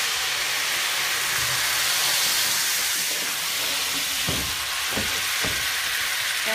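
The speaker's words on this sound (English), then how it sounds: "I'm gonna add a half a cup of my cooking wine" Half a cup of cooking wine hits a hot pan of rosemary garlic butter steaks, raising a steady, loud broadband sizzle and hiss with a few sharper crackling bursts near the end, no voices.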